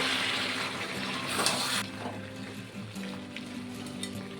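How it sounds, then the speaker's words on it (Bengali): Mutton fat is dropped into a pan of cooking mutton kosha and stirred, a loud sizzle that flares briefly then settles into a quieter, steady frying crackle with faint stirring scrapes. "খাসির চর্বি, চর্বিটাকে দিয়ে একটু নেড়ে দেব।"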